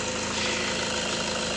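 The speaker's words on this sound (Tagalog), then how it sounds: "maandar na yung makina" 2007 Toyota Innova engine idling after EGR valve, throttle body and intake manifold cleaning, a steady close rumble with a quick, even pulsing throb and no voices.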